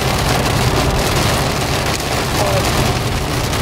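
Rain falling steadily, a constant close hiss of drops on surfaces that fills the whole moment without pause or change.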